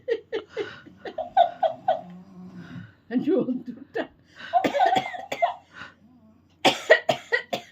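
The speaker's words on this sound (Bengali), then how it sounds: "তোর সঙ্গে হাসতে হাসতে আমার কাশি এসে গেছে" A person coughs several times in short bursts, close up, mixed with bits of laughter and talking between the coughs.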